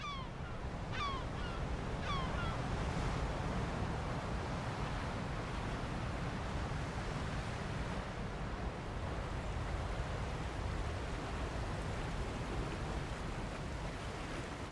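Ocean waves wash along the southern African coast as the sea retreats, a continuous broad roar of surf with a few faint bird calls near the start.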